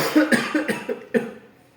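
A burst of several quick coughs in a row, close and fairly loud, trailing off at the end.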